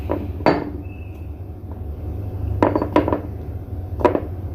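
Boiled saba bananas are smashed in a pot before margarine goes in: a handful of sharp clanks and knocks of a utensil against cookware, spaced irregularly over a low steady hum, close by with no talking.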